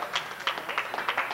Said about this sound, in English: Nice round of applause from the crowd.